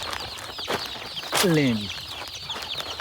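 Hens and chicks cluck and peep on a poultry farm, with a loud rising-and-falling call near the middle amid scattered chirps, while a person speaks briefly.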